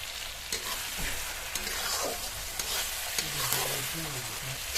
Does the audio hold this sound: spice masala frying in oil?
yes